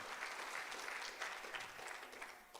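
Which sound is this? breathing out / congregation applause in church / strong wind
congregation applause in church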